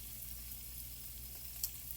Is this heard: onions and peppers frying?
yes